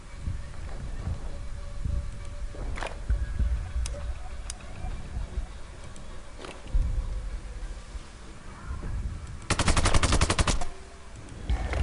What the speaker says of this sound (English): Open fire, get him quick!